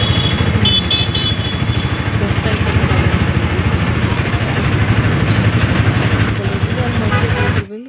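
A busy market street in Bhubaneswar with motorcycles, cars and tempos: a continuous close, loud rumble of idling and passing engines with a steady droning texture and faint horn-like tones above.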